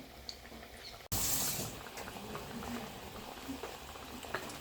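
Spinach (pasalai keerai) vada batter dropped into hot oil, two large vadas at a time, bursts into a loud steady sizzle after a brief quiet moment, the bubbling crackle continuing close and even throughout.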